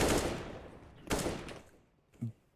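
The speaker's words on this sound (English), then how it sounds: "The flashbang." A flashbang grenade bursts during a Counter-Strike match, two loud broadband bangs about a second apart with a fading hiss, followed by a short thud.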